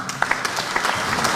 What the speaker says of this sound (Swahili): Situpigie mheshimiwa makofi ya